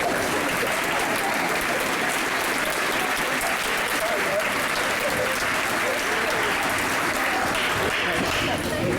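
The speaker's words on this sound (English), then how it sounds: "Let's give them another round of applause." Audience at a school band concert awards segment applauding loudly, thick continuous clapping from a full hall with cheering voices mixed in, steady for the whole stretch.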